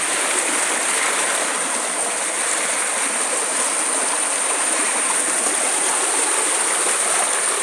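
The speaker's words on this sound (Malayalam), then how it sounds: "കുത്ത് ഭയങ്കര സൗണ്ട് കേൾക്കാവോ നിങ്ങൾക്ക്?" A rushing stream of water, with the current tumbling past close by, gives a loud, steady, unbroken roar of broadband water noise that continues for the whole stretch with no voices.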